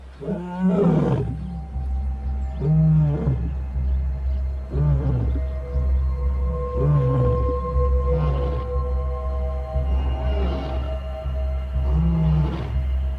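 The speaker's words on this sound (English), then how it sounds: "A lion's roar can be louder than a jackhammer." A male lion's deep roaring grunts repeat in a steady series of about seven calls, loud and near, with no other sounds around them.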